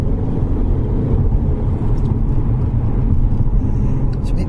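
A Mercedes-Benz car engine rumbles steadily under acceleration on a wet road, heard from inside as a dense low drone with road noise.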